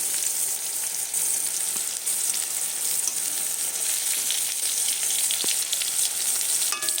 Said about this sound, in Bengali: টাটকাগুলো রাখলাম আর আগেরগুলো ভেজে দিচ্ছি একটু।